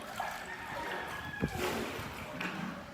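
Water pours and splashes in uneven spurts, fairly close and moderately quiet, with a couple of brief louder splashes.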